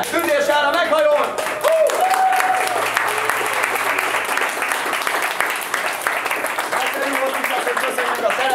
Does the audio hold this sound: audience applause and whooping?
yes